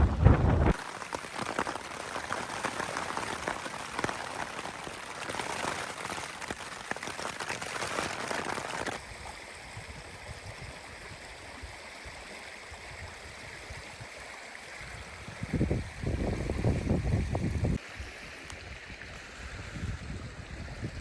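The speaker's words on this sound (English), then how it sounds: "Right, just taking a break in the rain and the wind." Night rain and gusting wind in the Forest of Bowland, with a heavy rush of rain for several seconds that eases to a softer patter, then brief loud bursts of rain and wind near the end.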